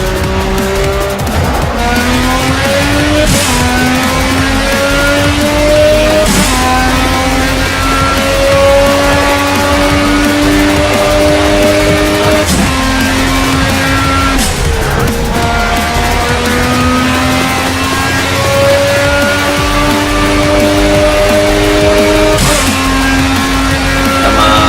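Race car engines in the video game Project Cars roar continuously, revving up and shifting through gears in repeated rising whines, with occasional tire squeals, loud and steady throughout.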